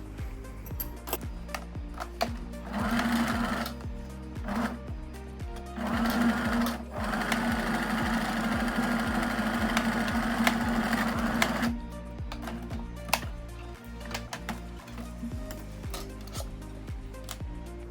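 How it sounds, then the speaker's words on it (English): A sewing machine runs a zigzag stitch back and forth across elastic at a trouser waistband, a steady close mechanical whirr in long bursts with short pauses between passes. "setting your machine to a zigzag stitch and then just going across here quite a few times so that it's nice and strong with the zigzag stitch"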